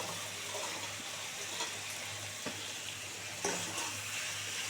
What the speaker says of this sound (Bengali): এবারে ভালো করে পেঁয়াজ কলিগুলো একটু ভালো করে ভাজা ভাজা করে